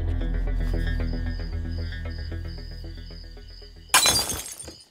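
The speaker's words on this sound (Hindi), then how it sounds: "कोई ग्लास तो नहीं टूट गया?" Glass shatters suddenly and loudly near the end, a sharp crash with a brief scatter of tinkling fragments that cuts in after a stretch of fading music.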